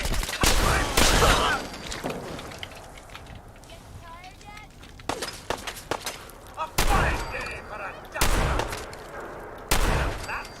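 Explosions and bursts of gunfire from the Fallout 4 video game during a stormy outdoor fight, several loud broadband blasts recurring across the stretch with quieter crackling between and a voice talking over the action.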